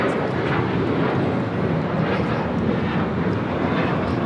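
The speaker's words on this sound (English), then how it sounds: "a 777 freighter about to touch down at 25 left" A Boeing 777 freighter touches down on runway 25 left at LAX, its engines a loud, sustained broadband roar with slight surging, heard alone.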